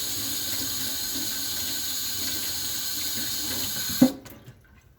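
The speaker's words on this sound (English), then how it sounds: "let me rinse my hands again" Hands rinsed under a running kitchen tap, a steady close stream of water splashing into the sink that cuts off abruptly near the end, leaving quiet.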